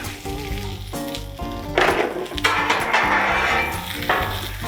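Cut corn kernels hit a hot pan of avocado oil and butter and sizzle loudly and steadily, with clattering stirring noises and faint background music, and no one speaking.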